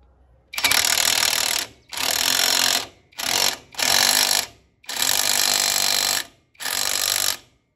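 A powerful power tool tightening a nut while building a motorhome runs in six loud, sustained bursts of roughly a second each, separated by short pauses, with no talk over it.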